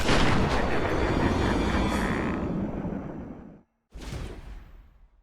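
A heavy roaring burst of Joker's gunfire in Batman: Arkham Asylum, loud and sustained for several seconds before fading, then a brief silence and a second shorter burst.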